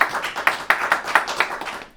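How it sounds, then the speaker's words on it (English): An audience claps for young performers at a youth symphony concert, a sparse, uneven patter of individual claps. It is close and moderately loud, with no talking. "So another round of applause for all of our fabulous performers today."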